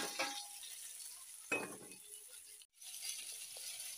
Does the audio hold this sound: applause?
no